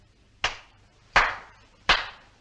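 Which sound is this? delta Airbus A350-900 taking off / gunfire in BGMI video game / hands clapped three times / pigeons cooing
hands clapped three times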